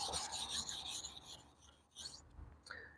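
A kitchen knife is sharpened on a whetstone in a steady series of close, rasping strokes, each blade pass a gritty scrape, with brief pauses between the final few strokes.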